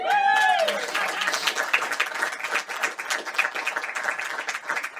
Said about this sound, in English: Does that deserve a round of applause?